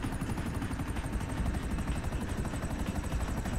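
An armored Akula helicopter in the game GTA V Online roars steadily with a fast, dense rotor chop, loud and continuous with no voices over it.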